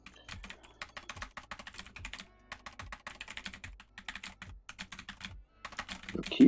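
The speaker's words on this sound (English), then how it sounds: "Your keyboard is loud." A computer keyboard rattles out fast, loud clicking bursts during a League of Legends coaching session, with brief pauses between typing runs and nobody speaking.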